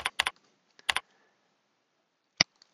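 Keys tapped on a computer keyboard while entering a material name into structural analysis software: a quick cluster of sharp clicks, a pause, then two more separate taps, close and fairly quiet.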